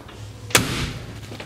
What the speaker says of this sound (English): Doors open and shut just like they should.